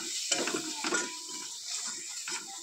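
Spices with salt and chili powder are stirred and fried in a pan, giving light scraping and clinking of a utensil against metal over a faint sizzle, close by and fairly quiet.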